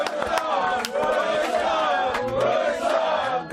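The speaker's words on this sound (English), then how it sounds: "The crowd are loving having you here." A studio crowd cheers and shouts continuously for a guest from the Netherlands at a football talk-show taping, a dense roar of voices sustained throughout with a presenter speaking over it.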